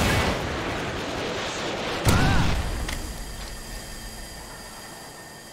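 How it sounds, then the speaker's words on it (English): Predator missile explosion in Call of Duty Modern Warfare 2 multiplayer, where a rumbling battlefield bed breaks into a sudden loud blast that decays into a long fading roar, followed by faint ringing tones. "Friendly Predator missile inbound."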